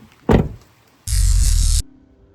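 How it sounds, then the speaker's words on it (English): Door on a Chevrolet Silverado EV electric pickup shutting with a single solid thunk, followed by a short steady electric whir, close and loud with no talk. "Okay, I'm closing the door behind you."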